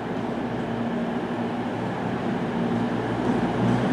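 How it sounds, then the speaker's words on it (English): A train running straight through Newton Abbot station without stopping, a continuous loud low rumble and rolling rail noise close by, building slightly toward the end, with no voices. "Train now approaching platform 1, not for public use"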